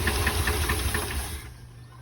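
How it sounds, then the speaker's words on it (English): Engine of a neglected 1981 K10 truck running after the ignition is switched on, a close rough knocking idle with a steady rhythmic tapping that drops away after about a second and a half. "let's turn the ignition back on"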